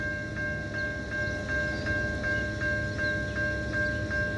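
A two-storey local train passes a road rail crossing, a steady loud rumble holding throughout with a regular chiming crossing bell or clatter repeating about every 0.4 seconds over the top.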